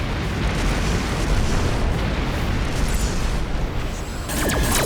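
Missiles detonating against a starship in the space combat game Rebel Galaxy, a dense continuous rumble of blasts filling the clip, loud and close, with a sharper crackling burst near the end.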